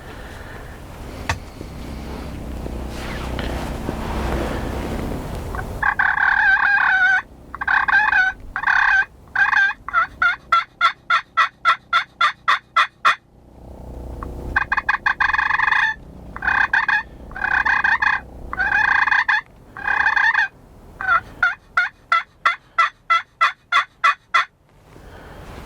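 Wild turkeys gobble in repeated rapid bursts from a field, loud and fairly close, the calls coming in clustered volleys separated by short pauses, with a softer stretch of rustling and low ambient noise at the start.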